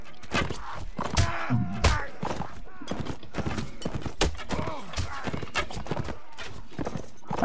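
Horse hooves clip-clop in the Mount & Blade video game, a brisk run of close hoof thumps with a whinny mixed in, under overlapping game sounds.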